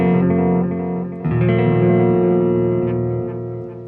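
Guitar played through a Walrus Audio Qi Etherealizer delay pedal with its tone darkened, sustained warm chords with lingering repeats, re-struck once partway through and then slowly fading.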